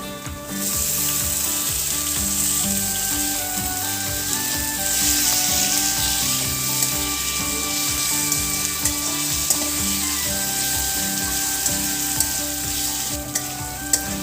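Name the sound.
frying onion and tomatoes in a pan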